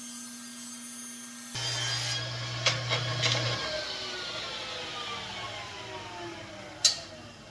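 Wood pieces being cut for a workbench top, a steady rasping saw sound running through most of the clip after a sudden start, with a few sharp clicks and a louder knock near the end.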